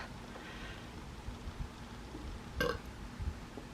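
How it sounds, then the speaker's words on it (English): A single short burp erupts after eating hot and spicy stir-fried yakisoba noodles with vegetables, close and fairly loud against a quiet room background. "I feel like I need a burp."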